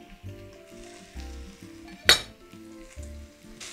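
Vegetables sizzle and fry in a soup pot while a spoon stirs in short scraping bursts, and one sharp metallic clink stands out partway through.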